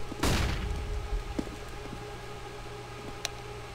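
A flashbang grenade goes off in Counter-Strike on the Mirage map: one sharp, loud bang with a short rumbling tail, then quieter game noise with a faint click or two.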